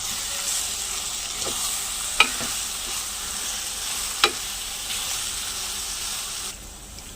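Spiced cauliflower egg masala is stirred in a sizzling pan, with a continuous soft fry hiss, scraping spoon strokes and two sharp clinks of the utensil against the pan before the sizzle drops off.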